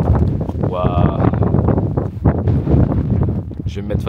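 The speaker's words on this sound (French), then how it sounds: "Je vais me mettre face au vent, je pense que vous m'entendrez plus." Strong wind buffets the microphone on a mountain near Mount Fitz Roy at sunrise, a loud continuous roar and rumble throughout, with a person speaking briefly over it.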